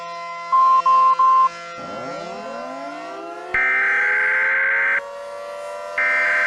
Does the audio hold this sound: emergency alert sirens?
yes